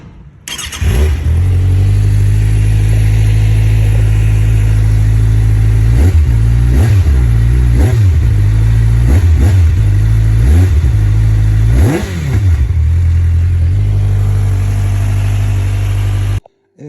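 A Kawasaki ZX6R motorcycle engine on its stock exhaust idles loudly up close, then revs sharply several times in a row before settling back to a steady idle.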